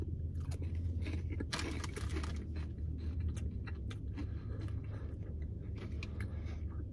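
Close, steady crunching and chewing of Flamin' Hot Smoky Ghost Pepper Cheetos, with dense repeated bites and no talking.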